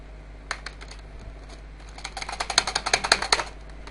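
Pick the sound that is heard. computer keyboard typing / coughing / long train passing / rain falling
computer keyboard typing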